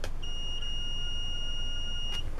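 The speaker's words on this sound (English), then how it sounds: "I touch anywhere, it made a beep" A handheld electrical continuity tester touched to a homemade grounding pillow lets out one sustained, clear high-pitched beep lasting about two seconds over faint room hiss.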